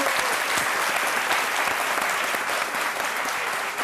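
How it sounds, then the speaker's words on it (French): A studio audience on a French midday television show claps loudly and steadily for a guest, a thick continuous wash of applause with no gaps. "Merci de l'applaudir très fort"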